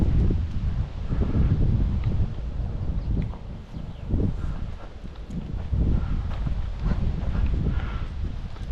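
Strong wind gusts outdoors, roaring and buffeting the microphone in uneven surges that swell and ease over several seconds, with faint rustling underneath and no voices.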